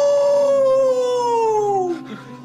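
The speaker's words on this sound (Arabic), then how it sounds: "الدنيا عتمه، ما في قمر، صوت خفيفيش، كلاب عم بتعوي كلياتها" A dog howls at night, one long loud sustained howl that slowly falls in pitch, then breaks off into a shorter trailing whine, close and clear with no talk.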